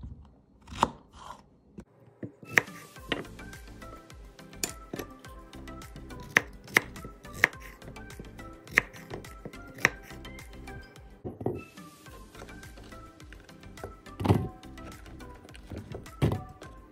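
A knife cuts zucchini into pieces on a board, giving a long run of crisp, close, irregular chops and thunks, some clustered quickly and others spaced apart, with no talk.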